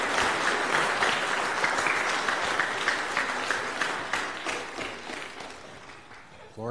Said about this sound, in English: Can we say a round of applause and say thank you to the kids,